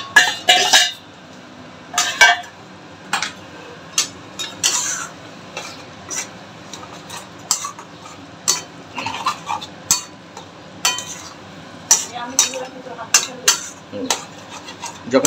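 Mutton keema being stirred with masala in a pan for keema sag, heard as repeated close metallic spatula scrapes and clinks against the pan over a faint sizzle, with occasional quiet voice.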